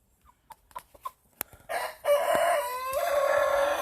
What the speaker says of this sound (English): He is a dark Cornish rooster.